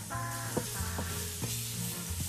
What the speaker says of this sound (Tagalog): Ito yung natitira sa mantika. So dito ko na iluluto ang aking sinangag.